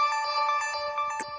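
A phone notification chime rings out clearly and alone, a bright tonal jingle lasting about a second and a half, close and fairly loud.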